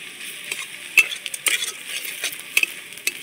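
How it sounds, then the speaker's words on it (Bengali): Onion, garlic and grated ginger stir-frying in a pan for a prawn dish, with a close, steady crackling sizzle broken by sharp scrapes and taps of the spatula against the pan. "এবার দিয়ে দিচ্ছি গ্রেট করে রেখে দেওয়া আদা।"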